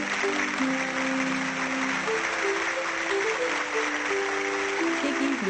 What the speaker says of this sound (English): Tiggy's mother and father clapped loudest of all.